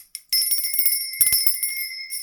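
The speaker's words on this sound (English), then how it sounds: "I'm going to be ringing my lovely lady bell" A hand bell rings sharply and loudly up close, its bright sustained tone shimmering with a brief rattle of clapper strikes partway through.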